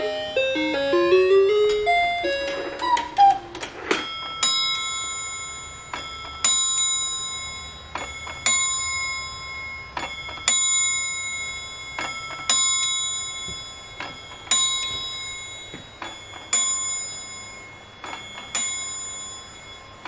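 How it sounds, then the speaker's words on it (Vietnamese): A Japanese wall clock plays a short chiming melody, then strikes its bell with evenly spaced, ringing strokes that decay between hits, close and clear with no talk. "Kết thúc nhạc là hai ông già sẽ gõ chuông."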